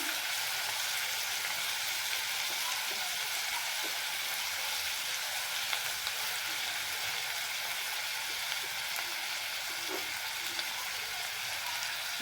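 Peas for chura matar fry in a pan with a steady, close, even sizzle that holds at the same level throughout, broken only by a few faint pops and stirring touches.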